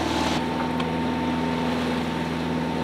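Sailboat motoring under engine power on a windless sea, a steady droning hum with a constant low engine tone and wash of water and wind noise, continuous and fairly loud throughout.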